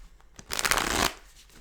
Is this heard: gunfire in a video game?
no